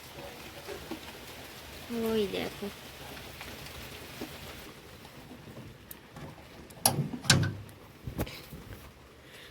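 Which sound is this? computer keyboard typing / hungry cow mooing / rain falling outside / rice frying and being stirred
rain falling outside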